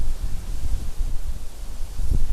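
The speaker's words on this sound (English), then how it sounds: "It's so windy out." Strong gusty wind roars against the microphone in low, rumbling surges with a rustling texture, no voices.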